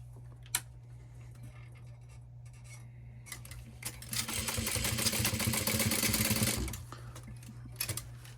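Sewing machine stitching nylon webbing for a key fob, a quiet room with faint clicks, then a close burst of rapid mechanical stitching lasting about three seconds before stopping, followed by a few light clicks.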